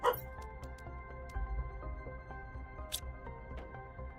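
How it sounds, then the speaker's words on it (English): A pet dog named Molly barks in a house at something passing outside, giving a few short, fairly faint barks over steady background music. "She likes to bark when she hears things walk past the house."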